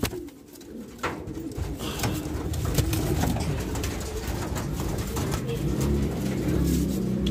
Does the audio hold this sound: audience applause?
no